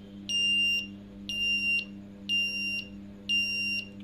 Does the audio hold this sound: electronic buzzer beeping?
yes